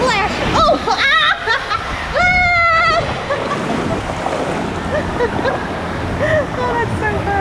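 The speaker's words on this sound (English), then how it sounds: "Oh, splash." Water rushes and splashes as a rider lands at the end of a plunging water slide at Aquatica Orlando. The loud wash runs under excited, exclaiming voices that dominate the clip.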